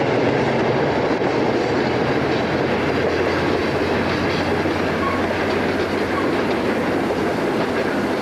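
An Erie Lackawanna westbound freight train rolls past with helper locomotives shoving on the rear. It gives a loud, continuous roar of rumbling wheels and rail clatter that stays steady and close the whole time.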